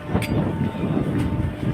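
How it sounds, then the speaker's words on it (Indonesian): Strong, hot morning wind gusting around dawn, roaring steadily and loudly right against the microphone as a dense, continuous rush with no pauses. "Di pagi ini anginnya sangat amat kenceng sekali guys"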